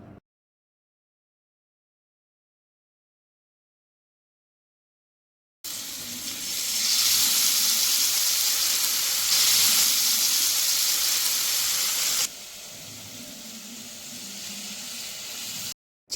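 Chicken tikka pieces fry in a pan, a loud steady hissing sizzle that starts abruptly after a stretch of silence and then drops to a softer level near the end, with no talking.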